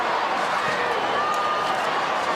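Crowd at an Australian football match cheering for the Gold Coast Suns, a steady broad roar of many voices that holds at an even level throughout, with no distinct voices standing out.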